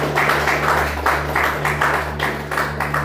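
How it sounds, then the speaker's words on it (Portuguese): A church congregation claps in bursts of broad, steady applause, with a constant low hum from the sound system running underneath the whole stretch. "Palmas para Jesus, irmãos."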